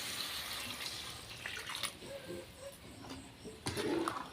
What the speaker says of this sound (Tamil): இப்போ வந்து குழம்புக்கு தேவையான அளவு தண்ணி சேர்த்துக்கலாம்